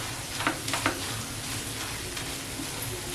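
Garam masala sautéing in a pan for a mussel tawa fry, a soft steady sizzle with a few brief scrapes of stirring near the start, fairly quiet and with no voices.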